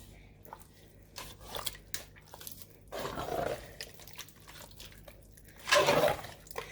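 Chili with tomato sauce and diced tomatoes stirred in a pot, quiet wet squelching and scraping with a couple of louder thick, gloopy swishes, faint and close.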